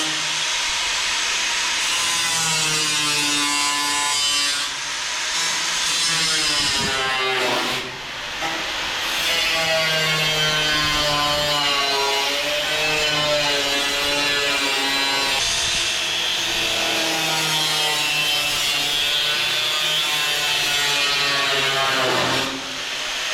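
A power tool saws through a truck's steel cross member in front of the motor, giving a loud, sustained harmonic whine that wavers as the cut progresses.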